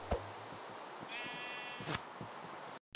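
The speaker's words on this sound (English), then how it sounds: "By the way, found some rare sheep." Sheep bleating in the Minecraft video game, one drawn-out wavering bleat standing out amid other game sounds, clear and fairly close.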